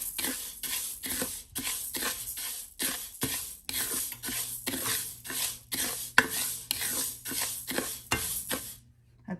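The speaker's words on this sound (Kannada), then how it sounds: "ಇದೊಂದು 3-4 ನಿಮಿಷ ಇದನ್ನು ಸುಮ್ಮನೆ ಹಿಂಗೆ ಡ್ರೈ ರೋಸ್ಟ್ ಮಾಡ್ಕೊಬೇಕು" Raw rice dry-roasting in a hot pan for Malnad akki kadabu, stirred with steady rhythmic scraping strokes, close and fairly quiet, each sweep a brief gritty rasp before a short pause.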